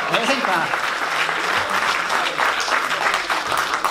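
An audience's sustained applause at a music event in Sweden, a dense wash of clapping that runs throughout, with voices mixed in.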